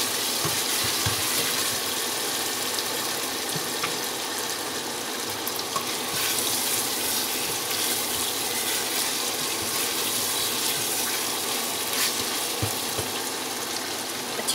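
Water poured into a pot of frying mutton curry with spices and yogurt, producing a steady rushing hiss and sizzle that runs continuously with occasional faint clinks of utensils.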